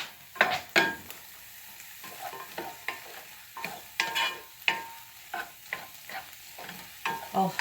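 Onions frying in a pan, a constant sizzle broken by repeated clinks and scrapes of a utensil stirring against the pan, close and fairly loud.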